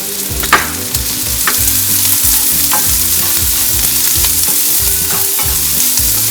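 Chopped onion sautéing in hot oil in a pan for an Indian-style egg tawa masala: a steady close sizzle with repeated rhythmic stirring scrapes and an occasional sharper clink, and no one talking.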